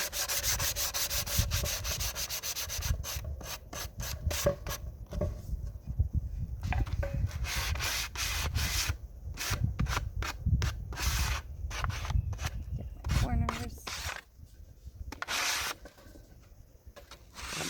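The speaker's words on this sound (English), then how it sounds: "Just be careful when you do your edges that run with the green with the sandpaper so you don't create a harsh line." Sandpaper worked by hand along the edges of a stained, woodburned wood piece: close, continuous rhythmic rubbing strokes with short pauses, loud and steady throughout with no talking.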